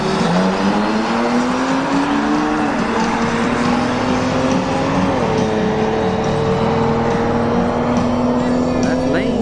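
A drag racing car spins its tires at the line during a Thursday Throwdown event at Bradenton Motorsports Park, its engine a loud, steady roar with rising and shifting pitch throughout.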